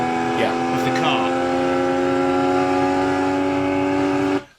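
A Porsche fitted with the PSE sports exhaust holds a steady, loud engine note rich in tonal harmonics for several seconds, then cuts off abruptly at the end.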